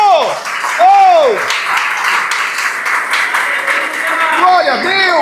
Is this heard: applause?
yes